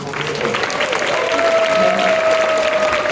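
Loud, sustained applause from a large jazz concert crowd at the Esplanade with scattered cheers and whistles, a steady wash of clapping throughout.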